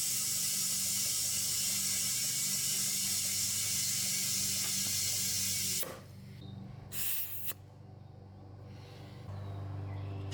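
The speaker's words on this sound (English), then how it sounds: "fill tire with recommended pressure" Compressed air hisses steadily into a tire being filled to its recommended pressure after sealant has been added, a loud continuous rush that cuts off abruptly, followed by a couple of short bursts and quieter background.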